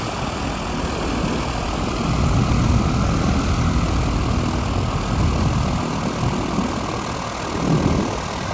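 A small propeller plane's engine drones steadily throughout as it takes off, rising slightly as it climbs away, with a low rumble and no voices.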